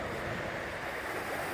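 Rushing floodwater of the Little Qualicum River, swollen by melted snow and heavy rain, roars as a loud, continuous broadband wash from close by.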